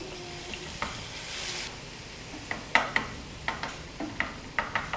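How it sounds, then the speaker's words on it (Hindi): Garlic paste fries in hot oil for a sauce, a steady soft sizzle with sharp spoon clicks and scrapes against the pan, near and clear with no talking. "लहसुन को मैं लाइट गोल्डन कर लूँगी।"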